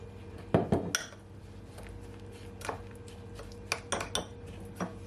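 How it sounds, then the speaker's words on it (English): A spoon stirs a seasoning paste of lemon pepper and olive oil in a bowl for jerk chicken, giving a few light clinks and scrapes against the bowl, quiet and close, with gaps between strokes. "Then I'm gonna take my spoon, and you just want to mix it all in."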